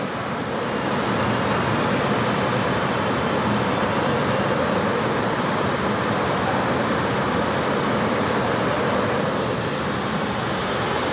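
Heavy rain pours onto a tin roof at a metro rail structure, a dense, even roar of drumming that fills the scene loudly and without break.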